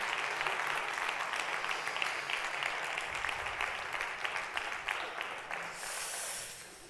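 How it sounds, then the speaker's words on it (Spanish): A crowd at a results presentation applauds loudly and continuously, the clapping dense and sustained before tapering off near the end. "Un fuerte aplauso para Raúl Alegre, Lourdes Gil, Lara Cortés."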